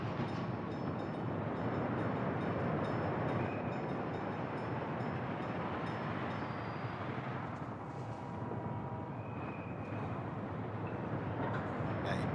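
Several trains rumble steadily through a busy station in the city-building game Workers & Resources, a dense continuous rolling drone with faint tonal whines, at a steady level throughout with no voices.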